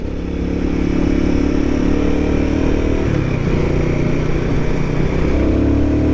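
A Royal Enfield Guerrilla 450 motorcycle accelerates on a mountain road, its engine droning loud and close with a continuous rising hum and a gear shift partway through, wind noise underneath.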